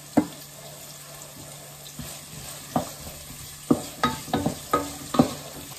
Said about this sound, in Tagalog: ginigisa ko na yung bawang, sibuyas, kamatis